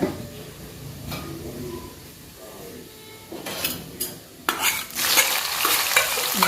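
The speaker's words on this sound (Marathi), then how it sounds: "आता त्यात आपण जिरं टाकून फोडणी देऊन घेऊया." Cumin seeds hit hot oil for a tempering, starting the base of a dry spring-onion-greens vegetable dish; after some stirring and clatter, a loud, steady frying hiss swells and holds, close to the pan.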